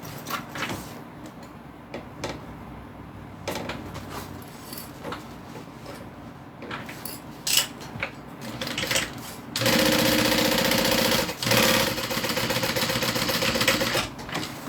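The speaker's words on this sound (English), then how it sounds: "now I'm going to open it up and do a top stitch along the bottom of the vinyl." A sewing machine top-stitches along the bottom edge of a vinyl panel, running in several short bursts before settling into a loud, steady stretch of continuous stitching close by, with no talk.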